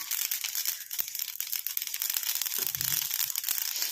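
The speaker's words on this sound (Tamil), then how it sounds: "இப்போ தான் கடுகு வந்து கொஞ்சம் கொஞ்சமாக பொரிய ஆரம்பிக்குது" Small mustard seeds popping and spluttering in hot oil in a pan, a dense continuous crackle of fine pops, close and steady, with no talk.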